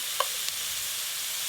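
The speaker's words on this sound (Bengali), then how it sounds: "আদা রসুন বাটা দিয়ে দেব।" Ginger-garlic paste sizzles in hot oil over fried grated onion and a bay-leaf tempering, giving a soft, steady frying hiss with a couple of light stirring clicks near the start.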